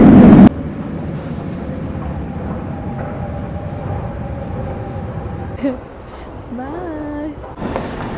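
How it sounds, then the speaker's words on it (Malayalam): A double-decker train in motion gives a steady, close rumble with low hum and faint tonal whines, and a voice is heard briefly near the end. "ഈ ട്രെയിൻ എന്ന് പറയുന്നത് ഡബിൾ ഡെക്കർ ആണ്"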